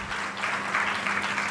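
Church congregation clapping hands at a church anniversary service, a steady, dense wash of applause that holds at an even level throughout without pauses.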